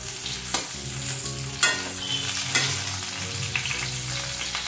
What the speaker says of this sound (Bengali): এইভাবে ঢাকা দিয়ে দিয়ে তাড়াতাড়ি করে পটলটা কিন্তু ভাজা হয়ে যায়।